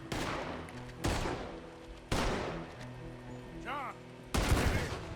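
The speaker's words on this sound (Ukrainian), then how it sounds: "Мені здається, хтось стріляє десь." Four loud, sharp gunshot blasts from the video game Red Dead Redemption 2 ring out at irregular intervals, each followed by a long echoing decay, with faint game music and tones beneath.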